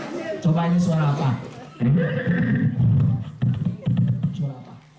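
A voice imitating a horse neighing, loud and close, with drawn-out whinnies and breathy snorts in several bursts, mixed with speech at a school parenting event.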